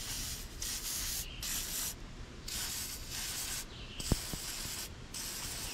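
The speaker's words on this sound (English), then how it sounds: "while we got the spray out, we'll go ahead and soak down all these lines here" An aerosol can of penetrating oil hisses onto the hydraulic lines of a 1960s Galion road grader in about five close, repeated bursts, with a faint metallic click partway through.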